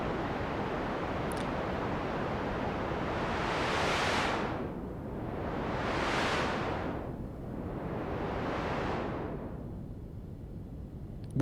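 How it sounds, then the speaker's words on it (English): White noise synth note played as one long legato tone in Ableton Live 11, a steady broadband hiss that swells and fades in three slow filter-like sweeps, alone with no talk. "Get one big long note, doesn't matter which one, because it's white noise."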